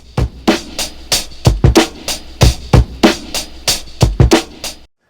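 Edited hip-hop drum loop remaking a song, with punchy kicks and crisp snare hits in a steady repeating boom-bap pattern, loud and upfront, ending abruptly.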